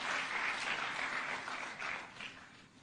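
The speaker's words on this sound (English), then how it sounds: "You can give him a clap as he's coming." An audience at a closing ceremony at State House, Nairobi applauds a guest speaker as he walks up, steady dense clapping that holds for a few seconds and then begins to thin out.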